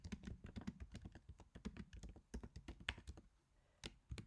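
Close, quick typing on a computer keyboard: irregular bursts of crisp key clicks with a short pause near the end before a few final taps.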